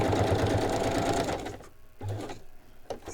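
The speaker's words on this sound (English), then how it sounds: "Now I just need my machine and I'm going to stitch that on." A sewing machine stitches printed tracing paper onto a journal page, a steady close whir for about a second and a half, then quieter, followed by a second short burst of stitching.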